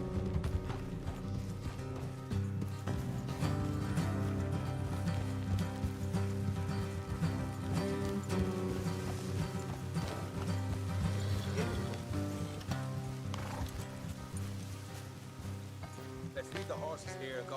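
Horses gallop along a trail in Red Dead Redemption 2, their quick hoofbeats running under game music and voices at a low level.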